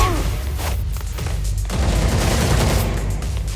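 Rapid gunfire fills a fight in the video game Gotham Knights, loud and continuous bursts with booms layered through the whole stretch, with shouted voices briefly mixed in.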